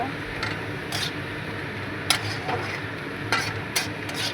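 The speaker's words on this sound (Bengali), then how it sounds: "দিয়ে দিলাম লেবু পাতাগুলো এখন একটু ভালো করে মিশিয়ে জাল করে নেব" A utensil stirring food with lemon leaves in a pan, with soft scraping and light sizzling under low background noise and a few sharp clinks and taps.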